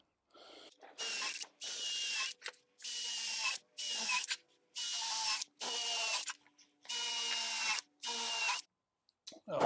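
Power drill countersinking holes in the timber frame of an acoustic panel, running in about eight separate bursts of a second or so each with short pauses between, close and loud, no talking.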